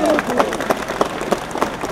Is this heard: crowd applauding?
yes